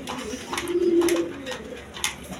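A pigeon gives a drawn-out low coo near the middle, set among other quiet bird calls and faint rustling in a loft where a pair of young pigeons is kept.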